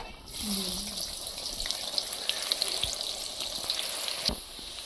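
Onions and whole garam masala fry in hot oil for chicken biryani, filling the space with a steady, close hiss and sizzle broken by a few light clinks and stirring sounds.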